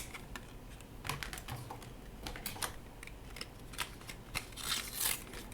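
Kingston A2000 NVMe M.2 SSD packaging being cut open with a blade, giving a run of sharp, close crackling snips and scrapes at an uneven pace with no talking.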